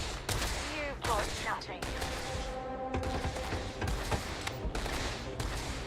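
Rapid bursts of gunfire in the Starfield video game, several volleys of sharp shots in quick succession with echoing thumps in between, loud and close throughout.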